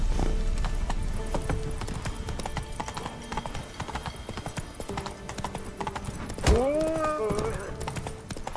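Geralt's horse Roach gallops in The Witcher 3: Wild Hunt, hooves pounding in a fast, steady rhythm close by, with a loud neigh toward the end and some background voices.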